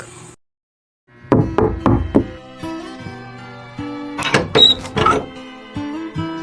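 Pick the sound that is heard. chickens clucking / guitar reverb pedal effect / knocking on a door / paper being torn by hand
knocking on a door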